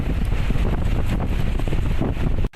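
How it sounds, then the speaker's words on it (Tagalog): Strong typhoon waves pound the shore at Aparri, Cagayan, a loud continuous rush of surf mixed with heavy wind buffeting on the microphone that cuts off abruptly at the end. "Malakas na ang hampas ng alon sa ilang baybayin sa Aparig,"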